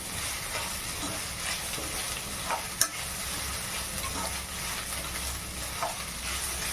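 Ingredients for paneer butter masala fry in a pan with a constant close sizzle, a few light clicks from stirring, and one sharp tap near the middle.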